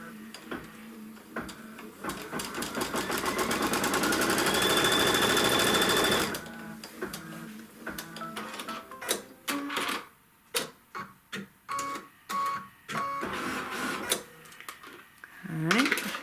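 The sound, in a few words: sewing machine sewing a quilt seam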